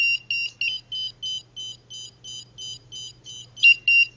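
An active buzzer on a student electronics project sounds a rapid series of short, even high-pitched beeps, about three per second, with a low steady hum underneath.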